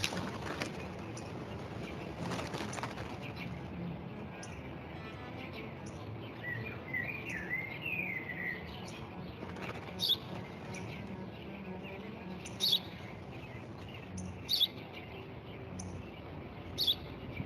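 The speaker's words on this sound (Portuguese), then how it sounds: "Um pássaro." A small bird gives faint, scattered chirps and tweets outdoors against a steady background hiss, with a short warbling call midway and a few sharp clicks later.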